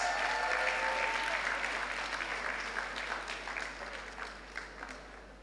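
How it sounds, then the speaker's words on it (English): Warm applause from the audience at an awards ceremony keynote, starting full and gradually thinning out as individual claps become sparser over several seconds. "my wife, Nkechi Ezigbo, who is here with me, deserves a round of applause"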